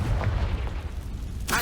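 A Confringo spell blast in Hogwarts Legacy, a heavy booming burst with rumbling low-end noise that fills the moment, followed by a sharper crackling impact near the end.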